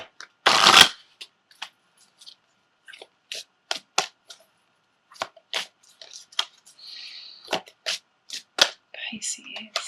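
A deck of tarot cards is shuffled in one loud riffling burst near the start, then the cards are handled in a string of soft, close taps and slides. No voice is heard.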